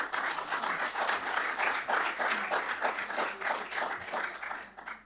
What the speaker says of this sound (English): I hope you heard the round of applause through my mic from the people in the room